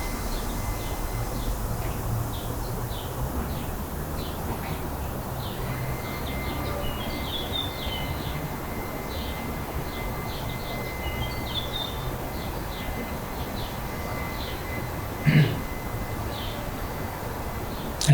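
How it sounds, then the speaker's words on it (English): Birds chirping faintly outdoors, scattered high tweets and short calls over a steady low background hum of distant traffic, with one brief louder knock near the end. "There's just the sound of cars, birds"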